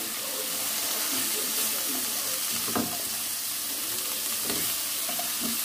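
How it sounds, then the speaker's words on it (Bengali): Frying and sizzling in two woks on the stove, with spatulas stirring and scraping in short bursts over a steady close hiss; a few clinks of metal stand out along the way. "দুটো কড়াই অ্যাট এ টাইম চলতে থাকে, সেই জন্য দুরকম খুন্তি আমার চলতে থাকে"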